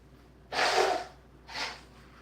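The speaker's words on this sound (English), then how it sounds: "Let me blow my nose." A person with a runny nose blows it twice, a loud wet honk followed by a shorter, softer second blow, close to the mic with no talking.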